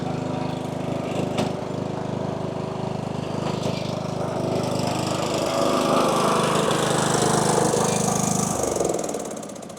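A small workshop machine with a clutch and brake runs in high gear, its engine giving a loud, steady droning rumble close by that continues throughout and cuts off near the end.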